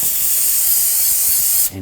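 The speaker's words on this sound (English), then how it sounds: "I'm just going to spray some anti-seize on the hub surface" A single sustained aerosol spray of anti-seize onto a 2006-2010 BMW 550i wheel hub surface hisses up close, then cuts off abruptly just before the end.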